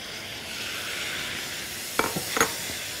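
Tomatoes go into a hot pan for a lentil dish, raising a steady faint sizzle and hiss, with a few brief stirring clatters near the end.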